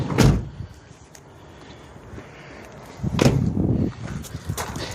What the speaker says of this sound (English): I gotta shut the doors.